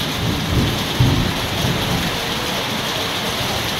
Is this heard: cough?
no